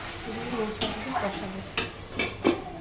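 Spices for chicken curry sautéed in a pan over a lowered gas flame, a spoon scraping and stirring in several distinct strokes over a soft sizzle, with faint background voice.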